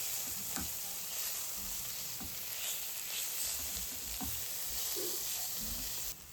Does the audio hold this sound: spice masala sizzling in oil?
yes